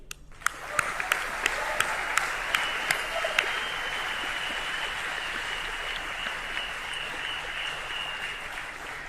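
An audience applauding at a large company annual general meeting, a broad steady wash of clapping with a few sharp claps near the start, sustained and fairly loud.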